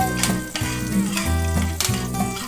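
Curry leaves, dried red chillies and a pinch of hing crackling in hot oil for a Hyderabadi khatti arhar dal tempering. A loud, close, steady sizzle sits under prominent background music with shifting tones.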